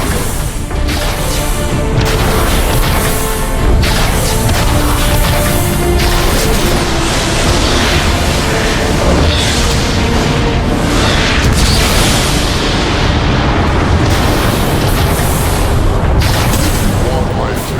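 Loud, sustained barrage of explosions and crashing debris as the warp cannon is destroyed in Transformers: Fall of Cybertron, a dense roar of booms running throughout with game voices and music layered beneath.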